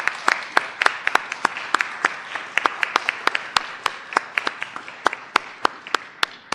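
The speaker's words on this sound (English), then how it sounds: "let's give her a huge round of applause on her last day" A small group applauds at a city Board of Aldermen meeting, a sparse patter of distinct, sharp hand claps from a few people in a room, steady for several seconds and fading slightly at the end.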